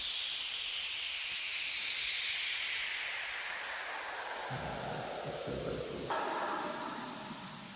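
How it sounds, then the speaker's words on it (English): A sweeper riser effect from a liquid drum and bass production in FL Studio: a long, airy whoosh of filtered noise with sweeping tones, shifting partway through and gradually thinning over nearly eight seconds, with no voices. "sweeper,"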